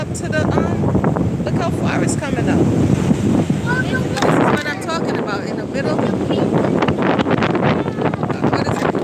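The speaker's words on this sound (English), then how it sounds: "the waves is high" Ocean waves roll in on a stormy beach under heavy microphone wind buffeting, a constant rushing wash with people talking over it throughout.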